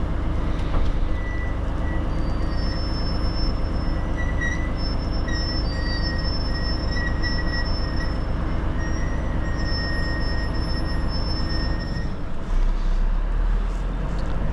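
A hook lift truck pulls a heavy container of more than 20 tons aboard, its engine droning loud and steady under a high, repeating mechanical whine, with a low thump near the end.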